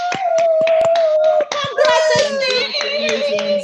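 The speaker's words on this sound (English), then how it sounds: "Please make some noise for our winner" An audience at a Toastmasters International area open house applauding a contest winner, a burst of sharp hand claps mixed with cheering voices, close and loud throughout.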